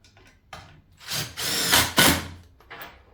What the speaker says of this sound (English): I'm just going to sink some screws into them